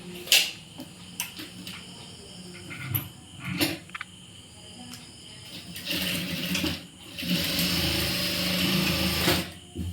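Sewing machine stitching a blouse seam, with short clicks and taps early on, then a longer, louder run of stitching in the second half.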